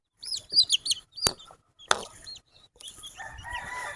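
Japanese bantam chickens, show-quality blackless birds, crowing and clucking up close in a short burst of bright calls, with a couple of sharp clicks and then quieter rustling and chirps toward the end.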